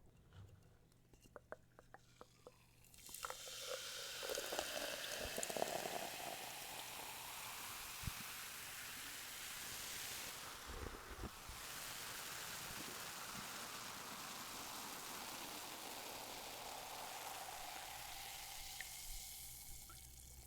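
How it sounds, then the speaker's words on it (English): Diet Coke poured into a glass, a quiet, close fizzing hiss that rises after a few faint clicks and carries on steadily for roughly seventeen seconds. "I already need to pour some more Diet Coke."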